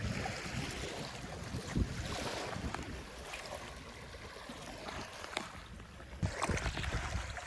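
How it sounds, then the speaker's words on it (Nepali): Sea waves wash softly onto a calm shore in the UAE, a faint continuous swash with gentle surges and wind, no talking. "यहाँको छालको आवाज सुन्दाखेरि पानीको।"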